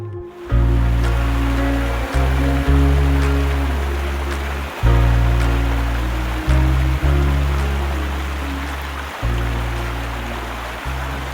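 A river running high beside an old bridge gives a loud, close, unbroken rush of water, steady from start to finish.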